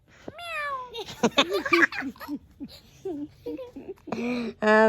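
A voice mimics a cat's meow in high, sliding tones, with giggly vocal sounds between, then a final drawn-out meow, close and clear.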